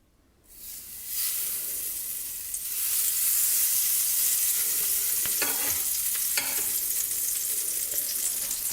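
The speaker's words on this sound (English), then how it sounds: "you're going to start melting your butter" Butter melting in a hot frying pan on medium heat, rising into a steady, loud sizzle and hiss that goes on for several seconds, with a couple of brief scraping stirs and no talk.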